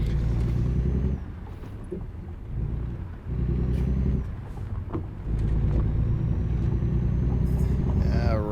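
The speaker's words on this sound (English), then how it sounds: "This is going to be some tricky driving with all these trailers, because yeah, we're basically pulling a train here." A heavy truck in American Truck Simulator hauls several trailers out of a gravel pit, its engine a deep, steady rumble that dips briefly and then swells again under a faint voice.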